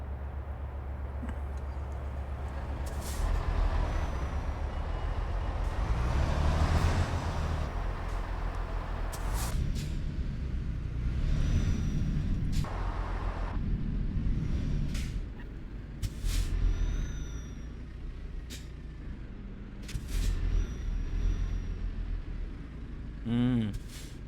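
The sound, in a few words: truck driving in video game Euro Truck Simulator 2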